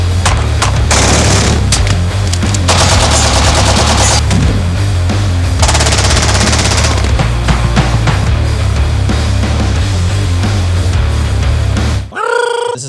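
Rapid Tec-9 gunfire at a shooting range, a dense run of loud, near shots with booms and echoes going on for about twelve seconds before cutting off abruptly.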